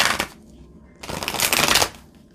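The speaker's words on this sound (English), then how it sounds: "But when you riffle shuffle them, well, they do just" A deck of non-glossy oracle cards is riffle shuffled up close, making a quick crisp burst of flicking, followed by a second, longer fluttering riffle.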